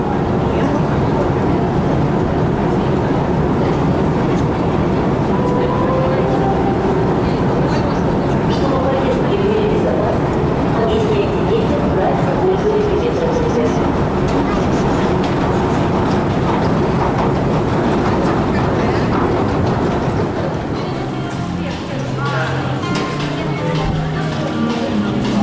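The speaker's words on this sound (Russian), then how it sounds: "Приехали на метро, новое метро." A Moscow metro train on a new line rumbles along in a steady, loud, continuous roar, with faint muffled voices in the carriage and a slight shift in the noise near the end.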